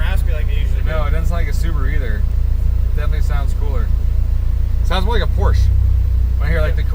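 A tuned 2008 Subaru STi running on flex fuel idles with a steady low exhaust drone, while people talk over it throughout.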